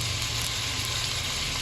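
Chicken pieces fry with ginger and garlic in a pan for tinola, a soft steady sizzle and crackle heard close and alone.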